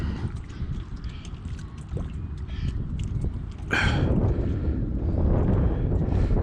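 Strong gale-force wind at a lake buffets the microphone in a continuous low roar that surges louder partway through, with a brief higher gust whoosh and no speech.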